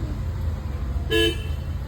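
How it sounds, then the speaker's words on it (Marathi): A car horn gives one short, clear honk midway through a monsoon family road trip, standing out over a steady low hum of the moving car. "हॉर्न मार, हॉर्न मार."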